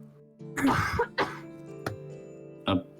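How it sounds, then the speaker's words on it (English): Several short, harsh coughs and throat-clearing bursts from a person during a multiplayer game session, spaced irregularly and sounding close and fairly loud, with a voice speaking in between. "It was a cough."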